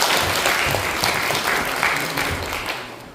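An audience at a blueberry-growing lecture gives a sustained round of hand clapping, dense and even throughout, with little talk beneath it.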